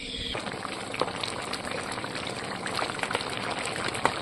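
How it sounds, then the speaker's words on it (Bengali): Fish curry of pankhagi fish with eggplant simmering in a pan, a steady soft bubbling and sizzling hiss with small pops, close by and without talk. "মাছ দিয়েছি, তরকারিটা আর কিছুক্ষণ ফুটিয়ে নেব।"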